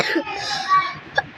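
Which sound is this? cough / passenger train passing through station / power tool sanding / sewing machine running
cough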